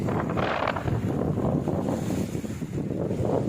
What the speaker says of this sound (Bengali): বাতাসে শোষ শব্দ